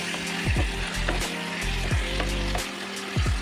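Chicken pieces frying with onions in a pan, a steady loud sizzle broken by repeated scraping strokes of a spoon stirring about every half second to second, close and continuous with no voices.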